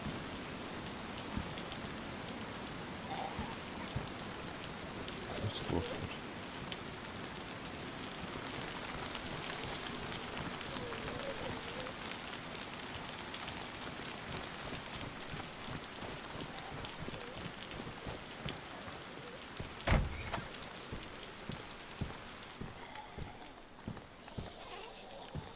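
Heavy rain pours down in the survival video game DayZ, a dense, steady hiss of downpour lasting throughout at moderate level, with a brief louder splash near the end and no talk.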